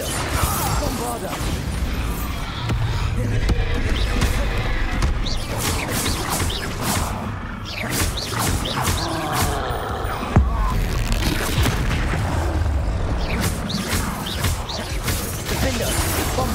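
Spell impacts and explosions from the Hogwarts Legacy video game, a dense run of repeated bangs, crashes and whooshing blasts with deep booming lows, loud and continuous throughout with music or effects layered underneath.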